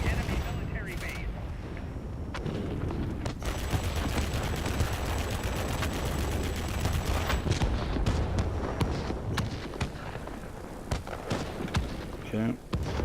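Aircraft machine guns in World of Warplanes rattle in dense, sustained bursts, loud and continuous over engine roar and occasional booms, while someone talks over the action.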